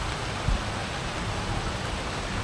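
Heavy rain pours steadily beside the Pasig River, a dense and uniform hiss of downpour filling the whole scene with one brief thud partway through and no talking.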